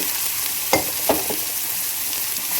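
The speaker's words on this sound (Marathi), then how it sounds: "आणि मसाला चांगला तेलात भाजून घ्यायचा आहे बघा तेल सुटेपर्यंत" Masala paste frying in hot oil for a mutton curry, with a steady soft sizzle and a few sharp louder crackles and stirring scrapes close by, no talking.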